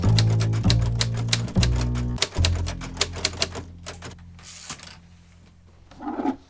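A manual typewriter types in quick bursts of sharp, close key strikes with heavy carriage thumps, slowing to sparse taps before a faint voice near the end.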